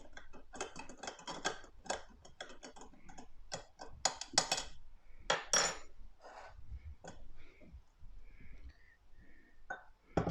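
A spoon knocks and clinks against a pot of Peshawari kawa green tea while it is stirred, making irregular close ticks and taps that pause and resume.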